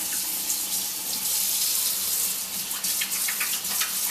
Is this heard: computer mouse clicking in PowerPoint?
no